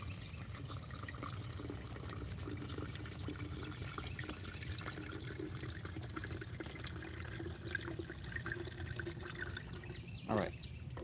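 Rainwater poured out of a container, a soft steady trickle and splash at low level under a constant hum, with a brief knock near the end.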